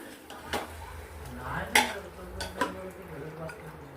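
A spoon scrapes and knocks against a pot while mutton coated in turmeric, ginger-garlic paste and salt is mixed, giving a few scattered metallic clinks and soft stirring rustles, close and moderately loud.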